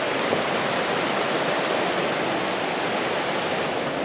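A river rushing past close by in a Vermont national forest, a dense, steady roar of flowing water that stays constant and loud throughout with no voices.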